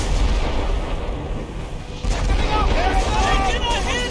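Ship cannons fire in a naval battle in Assassin's Creed Rogue, heavy booming blasts rolling over dense game noise, with shouted voices mixed in.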